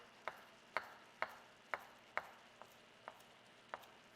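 Fresh cilantro chopped with a knife on a board, eight crisp, evenly spaced knife strikes, quiet and close, with nothing else heard.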